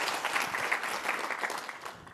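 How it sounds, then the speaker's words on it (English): A conference audience at a PyCon security and privacy panel claps for two presenters, giving a dense, even wash of applause that fades slightly at the end. "Can we have a huge round of applause for Eliza and Chris?"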